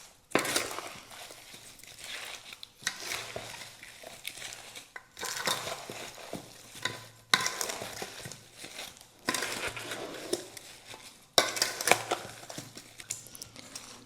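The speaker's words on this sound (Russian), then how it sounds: "Нам надо перемешать все ингредиенты, чтобы соль и сахар хорошо растворились." Green tomatoes with peppers, salt and sugar stirred together in a bowl for marinating, making repeated wet crunchy scraping and squelching strokes in several bursts, close and fairly soft, with no one talking.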